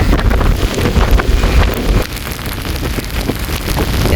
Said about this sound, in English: The wind is actually flying at a 90-degree angle.